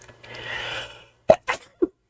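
A man sneezes during an interview, a short breathy intake followed by sharp bursts and a quick catch, close and fairly loud.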